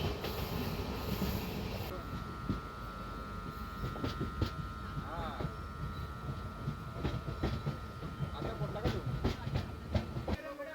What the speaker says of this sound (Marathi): चिपळूण रेल्वे स्टेशनवरून गाडी आता डिपार्चर होत आहे.